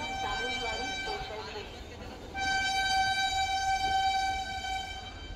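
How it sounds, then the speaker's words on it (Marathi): A Mumbai local train rumbles into the station as a sustained high metallic squeal or horn tone rises and holds, with voices murmuring faintly in the background. "फायनली ट्रेन आलेली आहे"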